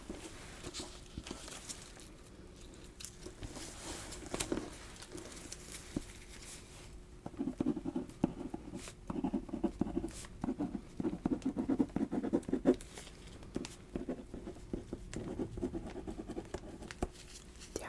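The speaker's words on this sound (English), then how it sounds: "Yeah, it's raining pretty good," Steady rain patters outside a hospital room, a soft continuous wash broken by irregular closer taps and light scratchy sounds, with no voices.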